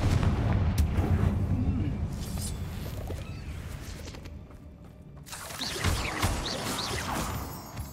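A Confringo blasting spell detonates in the wizarding game Hogwarts Legacy, a heavy rumbling explosion that fades into debris and crackling, followed by a second burst of scattered impacts, loud and near.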